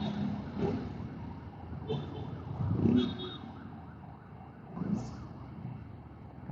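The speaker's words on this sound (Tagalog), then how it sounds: "May ambulansya sa likod" An ambulance siren sounds behind a vehicle on the Marcos Highway, its wailing tones rising and falling faintly over steady road and engine noise.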